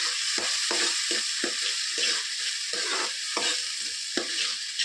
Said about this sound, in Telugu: బాగా వేగాలి.